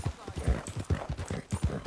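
Horse hooves clip-clop in the video game Red Dead Redemption 2, a close, even run of hoof strikes in a steady trotting rhythm.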